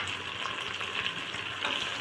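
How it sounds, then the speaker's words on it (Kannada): Vegetables and tomato fry in oil inside a pressure cooker, giving a steady, dense sizzle and crackle at close range for a couple of seconds, with no talking. "ಈಗ ನೋಡ್ರಿ, ಈ ಥರ ಫ್ರೈ ಆಗ್ತಾ ಇದೆ"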